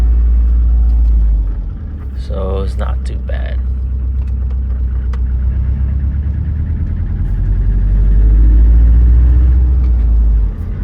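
A Subaru engine with noisy cylinder heads idles close by as a steady, heavy low rumble that swells slightly late on, while someone speaks briefly over it.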